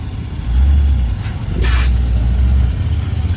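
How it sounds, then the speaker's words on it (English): Road traffic rolling past at an American classic car and bike meet, a steady low engine rumble swelling loudly as vehicles pass close by, with a brief hiss partway through. "looks like we got a bit of traffic rolling through the road today"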